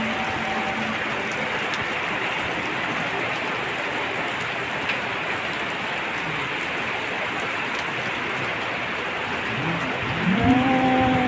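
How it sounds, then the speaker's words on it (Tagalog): Steady rain falls and patters on surfaces for the whole stretch, even and unbroken, with a brief low animal call near the end. "Simula nung nagbagyo-bagyo ngayon lang umulan dito."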